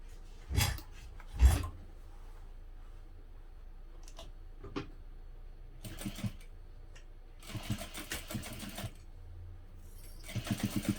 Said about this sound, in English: sew this closed using about 1/8 inch seam allowance.